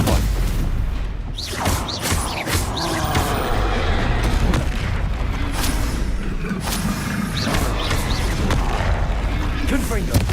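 Stupefy stunning spells cast in Hogwarts Legacy amid combat: repeated sharp, booming impacts and crackling bursts over a dense, busy background of battle noise, with a voice speaking intermittently through it.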